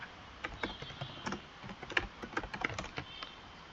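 Computer keyboard keys typed in a quick, irregular burst of light clicks while entering a Google search, faint and close with no talking.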